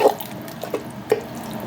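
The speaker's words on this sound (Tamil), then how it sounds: "அந்த தண்ணியை ஊற்றிக்கலாம்" Water tipped from a rinsed mixer jar into a cooking pot of biryani masala, heard as faint splashes and drips with a few distinct plops, quiet and close.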